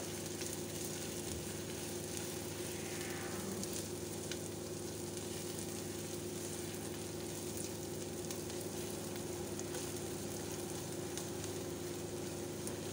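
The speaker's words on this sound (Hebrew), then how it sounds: "נטגן ביחד" Finely chopped garlic sizzling in a frying pan, a steady close hiss with faint crackle that runs without a break and with no voices.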